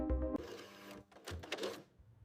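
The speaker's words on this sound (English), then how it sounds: "the printer starts humming as she pulls public records and credit reports" A printer runs with a mechanical whirring and clattering, starting with a low hum and then shifting into rattling, feed-like bursts that fade toward the end.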